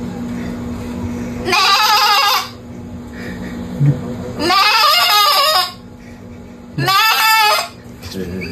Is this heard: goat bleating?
yes